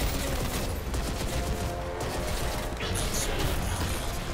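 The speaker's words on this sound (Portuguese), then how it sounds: "Eu dei um tiro nele no ar" Gunfire in the video game Crysis 2 Remastered rattles in dense, rapid bursts of shots, loud and continuous at close range, with a voice speaking faintly beneath the shooting.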